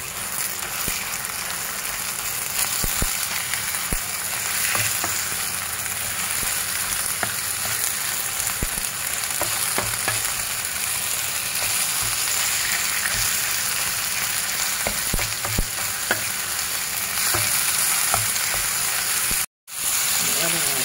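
Minced meat sizzles steadily in a pan for spring roll filling, a continuous close frying hiss with occasional crackles, and a voice speaks at times over the cooking.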